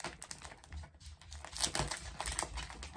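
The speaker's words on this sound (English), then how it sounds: "I'm going to start here by cutting the top as carefully as I can" Scissors cutting open a thrift-store yarn mystery bag wrapped in heavy tape, with close crinkling and rustling plastic and snips throughout, with no talking.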